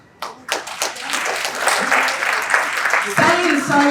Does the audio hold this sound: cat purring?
no